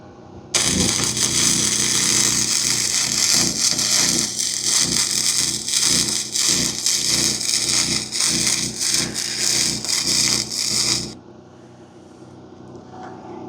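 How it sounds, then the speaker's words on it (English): A Hynade MIG145FX MIG welder lays a second bead over the first, giving a loud, steady crackling sizzle for about ten seconds before the arc stops and only a low hum remains. "Maybe actually lay another bead right on top of that."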